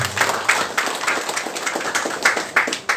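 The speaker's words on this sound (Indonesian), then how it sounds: "Mungkin kita beri tepuk tangan kepada perhatian dia." Audience applause at a public gathering with Indonesia's deputy minister of agrarian and spatial planning: a steady, close patter of many hands clapping at a brisk, uneven rhythm for about three seconds, with no speech over it.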